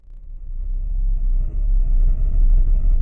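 A car on the test track in the video game Car Mechanic Simulator 2018 rumbles up from a quiet start into a loud, deep, steady engine drone, close, with a brief dip before building again and no voices.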